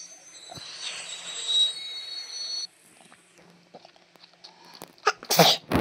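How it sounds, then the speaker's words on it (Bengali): An arriving train makes high, drawn-out squealing tones that stop abruptly, followed by a quiet stretch and then a few sharp hissing bursts near the end. "ট্রেন এসে গেছে আমাদের ট্রেন।"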